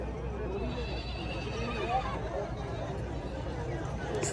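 A mare neighs amid the noise of a busy horse market, with a whinny rising briefly over steady crowd chatter and hoof clops, while someone talks nearby throughout.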